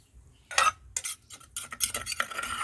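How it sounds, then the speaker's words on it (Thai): Metal utensils scrape and clink against a pot of boiling curry as pounded chili paste is stirred in, in bursts of stirring, close and fairly loud, with no voices. "ใส่พริกลงไปเลยน้ำเดือดแล้ว"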